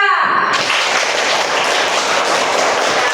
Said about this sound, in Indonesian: Mari kita tepuk tangan untuk kelompok 2.